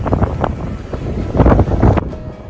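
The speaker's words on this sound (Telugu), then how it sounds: "పెద్దగా గాలి కూడా వస్తూ ఉంది." Strong wind buffeting the microphone on a black-sand beach where the Godavari meets the sea at Antarvedi, loud gusty rumbling roar for a couple of seconds before it suddenly drops away.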